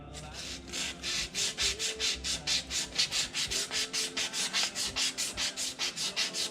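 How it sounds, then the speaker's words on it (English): 400 grit sandpaper is rubbed by hand over a cylinder head in quick, steady back-and-forth strokes, a close rhythmic rasping of about two dozen even passes. "I'm just going to take a little bit of 400 grit."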